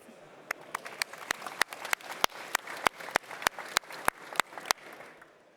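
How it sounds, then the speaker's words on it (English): Sparse, evenly spaced claps ring out at a healthtech conference, sharp single hand claps at a steady pace, fairly quiet and slightly distant, with no talking. "So big round of applause for Elizabeth."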